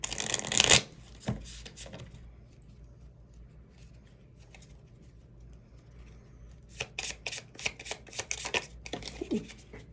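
Oracle cards being shuffled during a reading, with a loud riffle at the start, a quiet lull, then a long run of quick, dense shuffling strokes close by with no talking.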